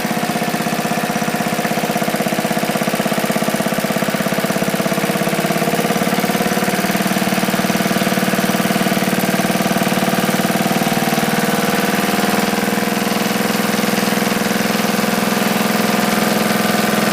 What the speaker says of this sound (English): Nice little engine.